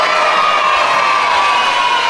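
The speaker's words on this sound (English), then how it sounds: "I'm just going to give them a round of applause" A crowd cheers and applauds continuously in a steady, dense roar of claps and shouts that holds an even loudness throughout, with no clear individual voices.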